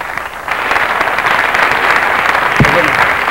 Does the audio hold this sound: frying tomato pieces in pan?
no